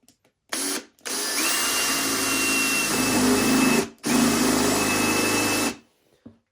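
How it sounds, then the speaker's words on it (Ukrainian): A carbide drill bit boring into an Izh Jupiter motorcycle flywheel, two long loud whining grinding runs separated by a brief pause, close up and continuous, with the pitch and load shifting as the bit bites into the metal. "Одну точку засверлились тут і другу засверлюємось тут."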